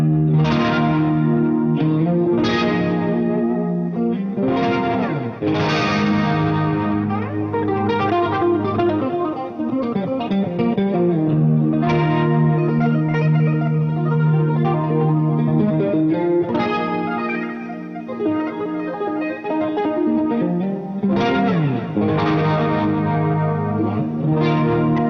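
Electric guitar played through a Rocktron Boutique series Dreamstar Chorus pedal, sustained chords and arpeggios with a shimmering, wavering chorus sheen and a touch of grit, loud and continuous with no talking.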